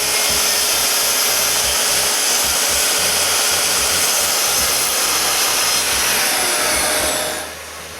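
A saw cuts two short straight ends off a piece of wood while building a workshop, giving a loud, steady, rasping whine with a high edge for about seven seconds before it stops abruptly.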